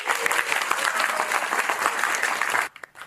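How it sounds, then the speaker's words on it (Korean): A crowded film screening audience applauds in a dense, steady burst of many hands for about two and a half seconds before it stops abruptly, leaving a few faint claps. "다들 박수 한번 해주세요."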